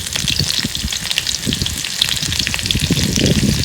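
Chopped green chillies hit hot oil with toasted cumin for a potato curry, setting off a loud, close, crackling sizzle with sharp pops scattered throughout, steady and unbroken with no speech.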